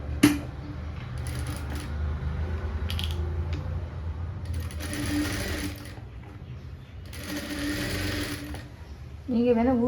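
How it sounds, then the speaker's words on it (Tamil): Sewing machine stitching a piece of a blouse front, its mechanical whir running in bursts of stitching with brief pauses, close and steady, while someone talks over it. "அது மாதிரி இன்னொரு பீஸு நம்ம தைச்சி எடுத்துக்கலாம்."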